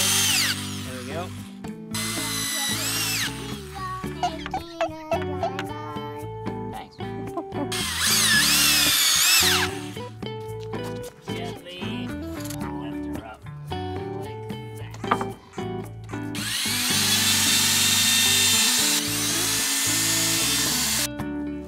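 A power drill driving screws, heard in repeated loud whirring bursts of a few seconds each between pauses, with adults and someone talking over and between the runs.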